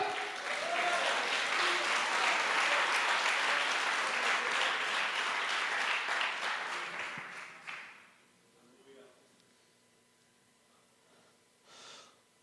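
A church congregation at a conference claps loudly and steadily for several seconds. The applause then fades out abruptly, leaving a quiet room with faint breathing and small sounds.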